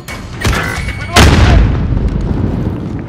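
A frag grenade explosion in Call of Duty Modern Warfare, a loud deep boom following an earlier sharper blast, with a long rumbling decay and battlefield noise underneath.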